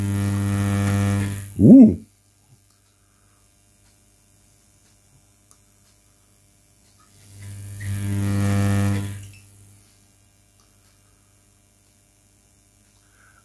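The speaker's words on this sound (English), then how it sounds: "let's spark the output, and here's the pilot flame." High-frequency electric flame from a GU81M vacuum tube Tesla coil, a loud buzzing hum in two bursts of about two and three seconds, separated by near-silence, with a brief exclamation at the end of the first burst.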